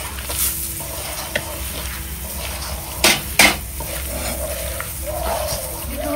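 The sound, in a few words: paratha frying in a pan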